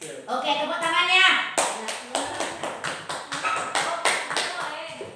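A group in a classroom claps in unison, a rhythmic series of about a dozen sharp, evenly spaced claps that follows a brief stretch of talking.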